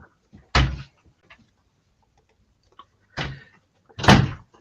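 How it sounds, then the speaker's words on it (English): A door is shut and locked indoors, giving a firm thud with a rattle, then two more solid knocking impacts a few seconds later. Faint clicks fall between them, and no one speaks. "He's locked the door on the doggy."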